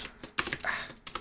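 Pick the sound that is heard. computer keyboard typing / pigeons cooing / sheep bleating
computer keyboard typing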